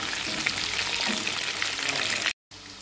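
Soya chunks fry in oil in a pan on a stove at medium heat, giving a steady, dense sizzle up close that cuts out abruptly near the end.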